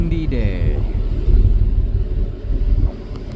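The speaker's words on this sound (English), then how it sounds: "it's a windy day." Gusty wind buffets the microphone with a loud, low rumble that swells and fades, aboard a harbor pilot ride in Pensacola Harbor, and a voice speaks briefly at the start.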